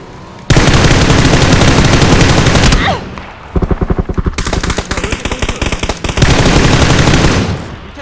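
Sustained automatic gunfire from a PUBG Battlegrounds match, loud and close, with long continuous bursts broken by a short lull and then rapid choppy volleys before another dense burst.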